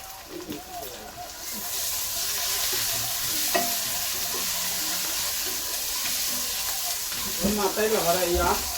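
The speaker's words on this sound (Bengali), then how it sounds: "এখন নেড়ে দিব, নেড়ে দিচ্ছি" Rohu fish curry ingredients are stirred in a frying pan over a constant sizzle, with occasional spoon scrapes and a brief burst of speech-like sound near the end.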